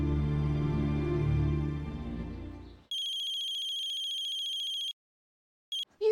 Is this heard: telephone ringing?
yes